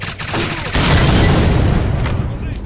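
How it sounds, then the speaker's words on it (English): A grenade explodes in a video game: a sudden loud, close blast that rolls into a sustained roar of rumbling debris and gunfire-like crackle lasting several seconds. "here's a grenade to blow you apart!"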